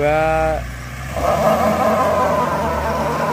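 A 2022 Toyota Hilux Single Cab 4x4 running in 4x2 during a drive test, a steady engine drone that dips briefly then rises again into a sustained, fairly loud run with the rear wheels turning.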